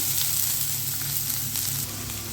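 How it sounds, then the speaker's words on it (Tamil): Onions sizzle steadily in hot oil while being fried until golden, a soft, even crackling hiss that continues quietly throughout. "வெங்காயம் நல்லா பொன்னிறமாக ஆகிற அளவுக்கு வதக்கி விட்டுக்கலாம்"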